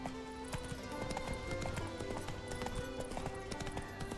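Horse galloping in The Witcher 3 video game, rapid rhythmic hoofbeats thudding steadily over ambient game sound, close and moderately loud.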